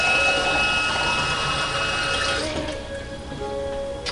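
Water is poured steadily into a pot of baby lima beans being cooked as butter beans, a continuous splashing rush that trails off near the end.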